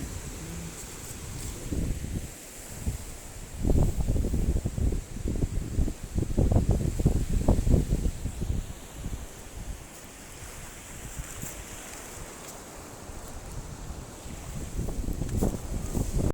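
Sea waves roll and crash on Porthcothan Beach in Cornwall, surging louder in the middle, with wind buffeting the microphone throughout.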